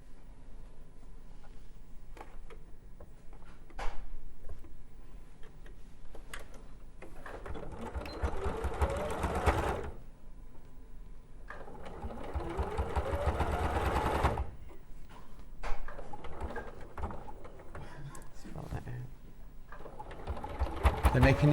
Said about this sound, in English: both face pieces, one on top of the other, and sew together along the front to sandwich the beak in place